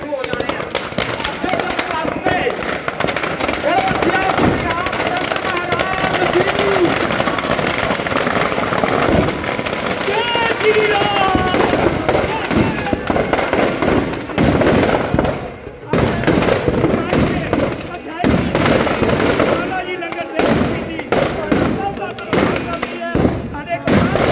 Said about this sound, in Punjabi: ਹੁਣੇ ਪਟਾਕੇ ਵੱਜ